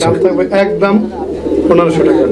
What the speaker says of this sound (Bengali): ডাকাডাকি করতেছে পিছনেরটা মাদি কবুতর